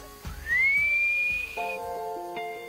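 A handler whistles to call a troop of Maura macaques in a national park, one long, loud rising then steady whistle followed by a shorter lower whistled tone, near and clear with no talking.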